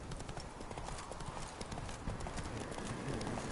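Horse hooves clip-clop steadily and continuously in The Witcher 3, a dense, even rhythm of hoofbeats at moderate loudness throughout, with a voice faintly present in the mix.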